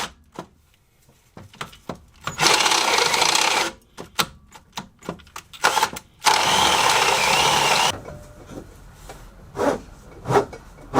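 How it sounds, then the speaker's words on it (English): Power drill running on a car fuel system part during an E85 fuel upgrade. It gives two sustained bursts of a few seconds each, with scattered clicks and handling noises in between. "And let's get some drill going."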